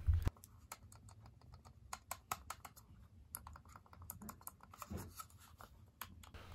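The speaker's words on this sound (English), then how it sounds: "we can't go anywhere without mentioning on how quiet the clicks of this mouse are" A Rapoo M100 silent wireless mouse gives a rapid series of very soft, muted clicks close to the microphone. The clicks are faint and irregular against a low background, with no speech.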